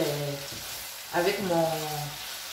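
Beef kidneys with onion sizzle in a pan, a steady close frying hiss with a brief stirring burst midway and faint talk underneath.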